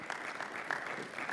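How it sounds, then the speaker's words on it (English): Audience applause at a startup event, a brief steady patter of clapping from a crowd, moderately distant and even in level. "Let's give these guys a huge round of applause"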